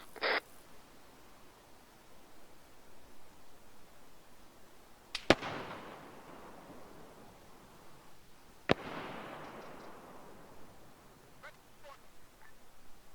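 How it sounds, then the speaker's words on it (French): Distant gunfire in the ArmA 3 military simulation game, two sharp isolated reports a few seconds apart, each followed by a long rolling echo over a quiet background, with a faint snap at the very start. "C'est les tirs depuis tout à l'heure, nord-nord-ouest."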